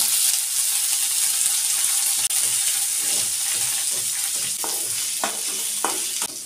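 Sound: eggplant frying and being stirred with onions in a pan

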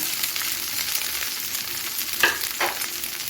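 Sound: flattened rice (chira) frying in ghee

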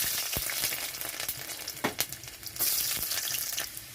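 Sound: garlic frying in mustard oil

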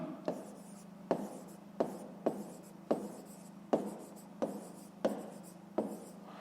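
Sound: writing by hand

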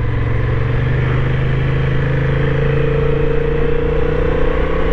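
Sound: Honda Hornet 750 motorcycle engine accelerating

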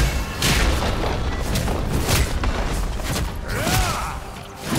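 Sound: turret destroyed explosion in League of Legends video game

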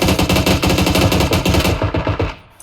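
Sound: machine gun fire in PUBG video game

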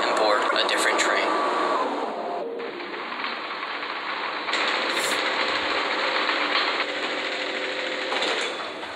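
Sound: tram riding in a video game

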